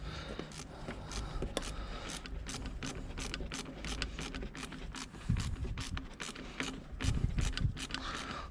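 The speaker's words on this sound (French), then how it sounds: "on peut maintenant venir serrer au 7 notre collier" A ratchet clicks in quick repeated strokes while tightening a hose clamp on a turbo hose of a Renault Megane 2 1.5 dCi, a close, steady clicking with a few louder scraping bursts.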